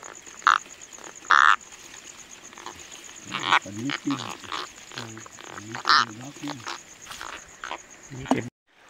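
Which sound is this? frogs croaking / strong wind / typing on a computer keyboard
frogs croaking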